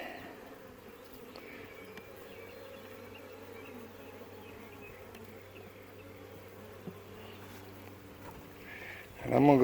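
Honeybees hum steadily around an open, queenless hive being reassembled, a soft, close, continuous drone with a faint rustle at the end.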